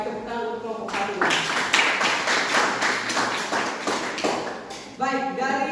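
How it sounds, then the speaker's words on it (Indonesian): A small classroom group of students claps for presenting group 1, sharp, fairly close hand claps for several seconds, with a voice heard before and after. "tepuk tangan untuk kelompok 1"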